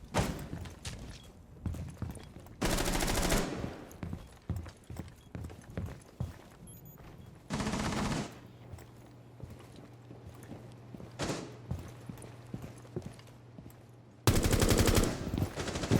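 Gunfire in the tactical shooter Rainbow Six Siege: several short, loud automatic bursts spaced across the clip, with quieter footsteps and scattered thuds in between and a low hum underneath.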